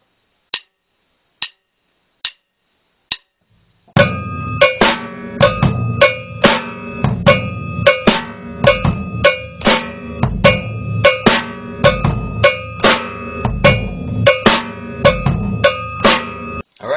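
A few lone clicks count in, then a steady drum groove kicks in with regular snare and bass hits and a crisp closing hi-hat chick on the backbeats.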